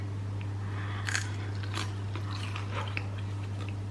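Crispy honey roast parsnip bitten and chewed close up, several crunchy bites and chews over a low steady hum.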